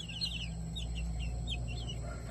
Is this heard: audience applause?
no